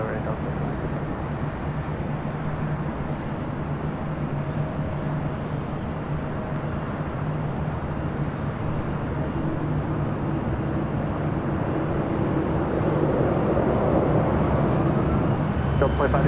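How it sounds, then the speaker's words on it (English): A Delta Airlines Airbus A319 bound for Las Vegas roars steadily at LAX, a broad continuous jet rumble that builds slightly toward the end, with voices talking over it. "Delta Airlines 822 heading to Las Vegas in this A319."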